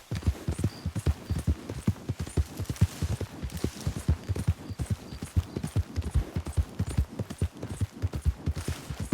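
Galloping horse hooves in Red Dead Redemption II, a steady rapid clip-clop rhythm that runs the whole time, close and fairly loud, with faint scattered gunfire-like cracks and no talk.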